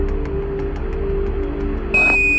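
A steady hiss and low hum, then a sharp, high electronic alarm tone, an Apollo 11 lunar descent 1202 program alarm, switches on near the end and holds steady.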